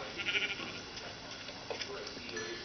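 Sheep bleating in the Minecraft video game: a few short, soft bleats that sound faint and fairly distant, over a quiet background.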